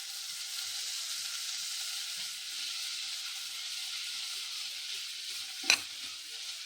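Onions, green chillies and garlic fry in a pan with a steady, soft hiss. A single sharp clink of a utensil comes near the end.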